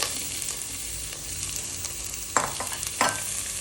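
Shallots and onions fry together in a pan, hissing steadily up close for a few seconds, with two short louder bursts of spatula stirring near the end and no talking.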